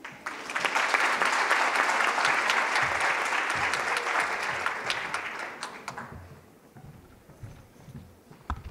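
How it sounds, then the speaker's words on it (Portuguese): An award ceremony audience claps in a dense, loud burst that holds for several seconds, then thins into scattered claps and fades to quiet room noise. "Obrigado aí pelas palmas e tal."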